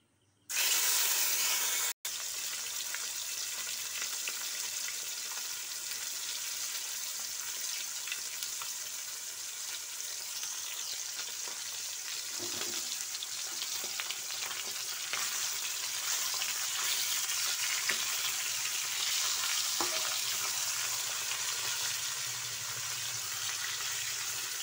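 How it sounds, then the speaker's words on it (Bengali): Live catla fish frying in hot oil, a steady close crackling sizzle and hiss that fills the whole stretch, with a sudden loud onset at the start and faint occasional stirring underneath. "মাছটাকে ভাজা করে নিচ্ছি।"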